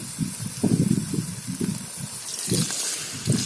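Water pouring from a vessel onto rice and sautéed masala in a pot for mushroom biryani, a short gushing splash with a few bursts, close and fairly loud, with no talking.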